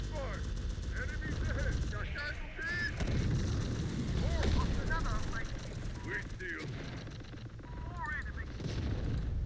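Gunfire rattles through a T-Force battle for Santa Fe in the TDFD game on realistic difficulty, with steady automatic bursts and mechanical clatter under radio-style voices and electronic chirps, dense and loud throughout.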